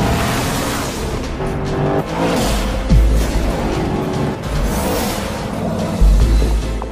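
A car drives at high speed through a tunnel, a loud continuous engine roar with reverberant rumbling surges and passing swells.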